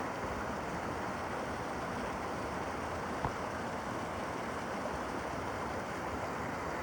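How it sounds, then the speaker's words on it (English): Steady, dense rushing of a mountain waterfall in Virginia fills the air, a constant broadband roar with no pauses or voices. "Beautiful mountain waterfall."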